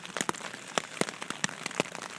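Rain drumming on a tent fabric at a trail camp, irregular close drops popping sharply over a continuous soft patter.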